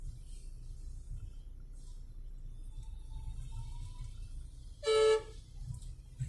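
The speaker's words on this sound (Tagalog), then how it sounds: "Busina na." A car horn gives one short, loud honk in congested city traffic on the way from Ayala Triangle to Cartimar, Pasay, over a low, steady engine rumble.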